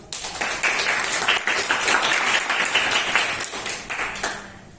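A crowd applauds steadily, a dense patter of many hands clapping that carries on for several seconds before fading at the end.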